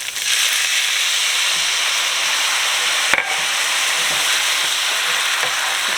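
Beef stock poured into ground beef frying in a pan raises a loud, steady sizzle and hiss of steam, with a brief clatter partway through. It is close and runs throughout with no talk.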